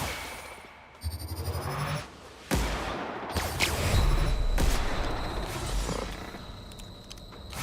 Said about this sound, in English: Let's try this plasma rifle then